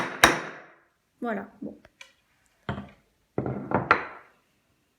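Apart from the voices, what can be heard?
hammer striking a punch into a metal bracelet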